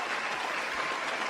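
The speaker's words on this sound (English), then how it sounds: "All right, round of applause. Round of applause" Applause fills a PC-building stream after a Maingear MG-1 Sapphire gaming PC is finished. It is a short, steady wash of clapping, faint and even, with no single claps standing out.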